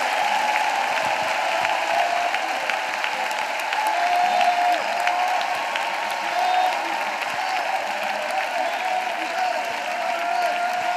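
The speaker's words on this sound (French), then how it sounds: "Let us clap for Jesus Christ." A church congregation at a prayer service claps continuously for about eleven seconds, a dense, sustained applause from a crowd.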